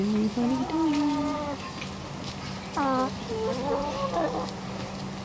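Backyard chickens clucking nearby, a run of short rising calls followed by a few quick clucks, with a steady low hum underneath and no talk.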